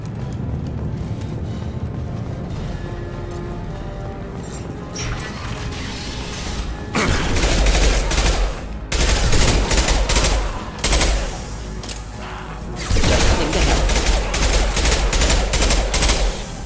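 Mass Effect 2 gunfire comes in loud rapid bursts of automatic fire, sustained over several seconds at a time, with pauses and mechanical sounds between them.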